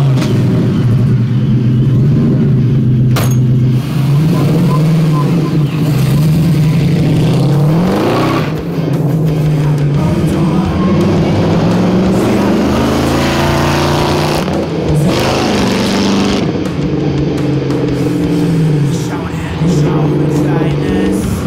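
Fast race car driving at the Hockenheimring, its engine loud and continuous with rising and falling revs as it accelerates and shifts gears, and voices talking over it.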